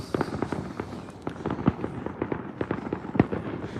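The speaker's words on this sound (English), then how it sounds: "Ooh, there's a mortar." New Year fireworks bursting outdoors, including a mortar shell, heard as a dense series of crackling pops and a few sharper booms at a moderate distance.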